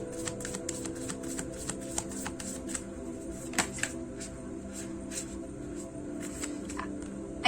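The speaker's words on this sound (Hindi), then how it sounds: "मैं और एक बार लेना चाहूंगी और एक बार शफल करना चाहूंगी।" Tarot cards being shuffled by hand, a steady run of soft riffling taps and flicks close up, fairly quiet, with no talking.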